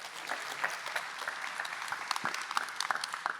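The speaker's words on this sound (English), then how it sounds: "Big round of applause." Conference audience claps at a London tech event as a guest is welcomed onstage, a fairly faint, distant spread of applause with individual claps popping out over the steady crowd patter.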